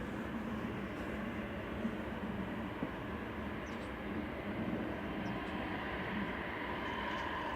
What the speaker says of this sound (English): So next in is that Las Vegas Virgin Atlantic flight, Airbus A350 GVLIB, flight 86.